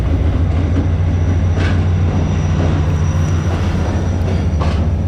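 The Karachi Express passenger train, led by an HGMU locomotive with business class and AC standard coaches on the Multan to Lahore line, rolls past close by with a loud, steady low rumble and wheel noise.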